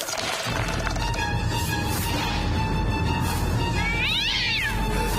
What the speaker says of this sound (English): thanks, Toshio, just meowing in front of my face like that